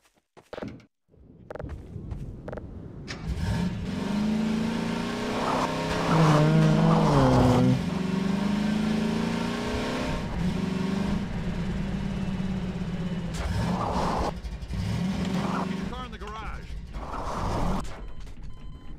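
Buggy in the video game Half-Life 2, its engine revving and droning continuously with rising and falling pitch, tire squeals and clattering bumps as it drives, fairly loud and close.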